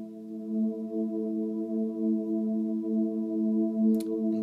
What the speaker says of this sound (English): laid down a basic pad with like a 1 and a